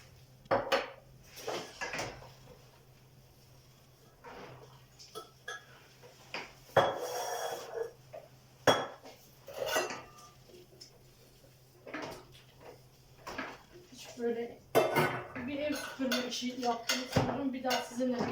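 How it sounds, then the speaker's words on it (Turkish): Dishes and glass bottles clatter and clink as they are washed and set down, with intermittent rubbing and knocking, close by and irregular. "Ben şişeleri yıkıyorum."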